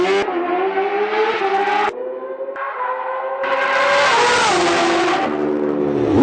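A custom Kawasaki Ninja H2 motorcycle built as a dragster revs hard and loud up close, its engine climbing in pitch through repeated throttle blips and a long sustained rise, with no voices.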